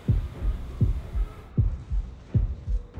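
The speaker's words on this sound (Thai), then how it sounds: "ตอนนี้หัวใจเต้นรัวๆเลย" A pounding heartbeat from the Horrorfield mobile survival horror game thumps in steady double beats, about four heavy pulses in quick succession, loud and alone.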